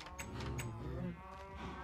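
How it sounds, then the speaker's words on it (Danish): A Minecraft cow gives a single low, drawn-out moo, close and clear over a quiet game background. "Ja, mange køer."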